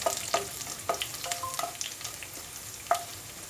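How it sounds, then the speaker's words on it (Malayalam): Dried red chillies and chopped garlic sizzle softly in a pan, with light scraping taps and clinks of stirring scattered through. "ഒരു അഞ്ചാറ് അല്ലി വെളുത്തുള്ളി ചേർക്കുക വെളുത്തുള്ളി ഇങ്ങനെ അരിഞ്ഞെടുത്തതാണത് ഒന്ന് ജസ്റ്റ് ഒന്ന് ഇളക്കി കൊടുക്കുക"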